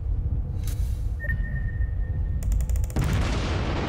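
Heavy battleship main guns of the Kongo firing in World of Warships, a few deep booming shots over a constant engine rumble, then a rapid rattling burst followed by a louder broadband roar near the end.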